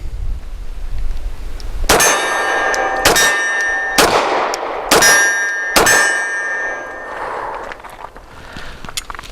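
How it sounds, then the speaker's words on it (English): Five rapid .40 caliber pistol shots fire as fast as accuracy allows. They come as five loud, sharp bangs spaced roughly a second apart, each followed by a bright metallic ring. "She's going to try 5 rounds at as much speed as she can guarantee the shots."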